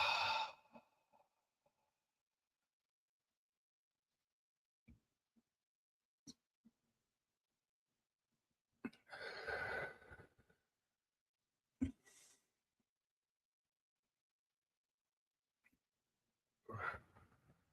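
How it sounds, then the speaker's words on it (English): Three deep breaths, each a close, soft, drawn-out sighing exhale, separated by long stretches of near silence with a few faint clicks and rustles. "Okay, so 3 deep breaths."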